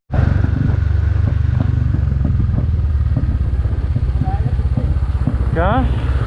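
A Royal Enfield motorcycle runs steadily on the road during a group ride to Mumbai, its loud continuous thumping engine close and dominant, with a brief warbling sound near the end.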